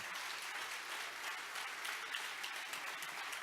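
A church congregation claps steadily throughout, a dense, sustained wash of applause heard at moderate distance with no clear voices over it.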